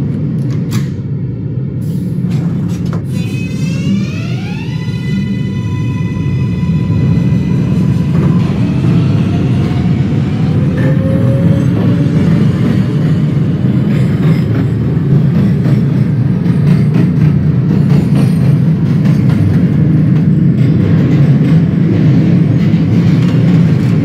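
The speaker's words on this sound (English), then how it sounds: "This is a Manhattan-bound M train." R143 subway train on the M line in the Openbve simulator, running steadily with a loud continuous rumble and rolling hum, rising whine tones early on as it gets under way, no talk.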